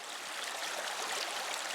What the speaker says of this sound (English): I've got a small cascading bit of water